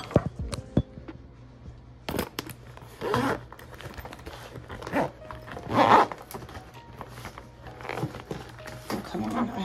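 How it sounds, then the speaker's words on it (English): A travel bag being packed for a weekend trip is zipped shut in several short rasping pulls, mixed with handling rustles and thumps, close by, while a person talks intermittently. "Zip this up."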